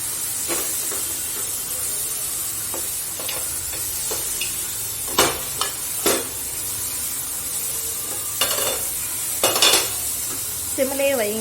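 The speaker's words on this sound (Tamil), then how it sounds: "நெய் சேர்த்து இன்னும் நல்ல சுருளை வந்து" Carrot halwa cooks in ghee in a pan, with a continuous sizzle and hiss broken by repeated scraping strokes of the stirring spoon against the metal.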